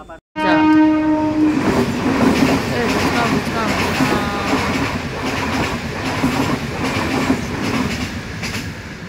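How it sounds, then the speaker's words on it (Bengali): A short train of four or five coaches passing a closed rail crossing, with its horn blaring loud and near at the start and the rumble and clatter of wheels continuing steadily after. "এইটুকু ট্রেন? কি ট্রেন এটা? এটা চারটে না পাঁচটা বগি ছিল।"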